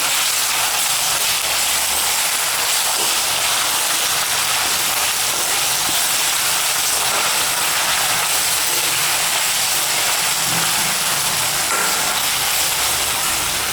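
Ginger garlic paste frying in a pan for a spicy masala egg fry, giving a steady, even hiss and sizzle that runs unbroken throughout, close and moderately loud, with no talking.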